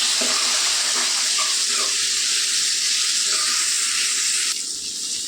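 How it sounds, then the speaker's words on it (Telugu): Chopped tomatoes sizzle in a pan of upma base with carrots, a loud steady hiss of frying throughout that softens slightly near the end. "టమాటా వేసుకుందాం ఇప్పుడు టమాటాలు కొద్దిగా మగ్గించుకుందామండి"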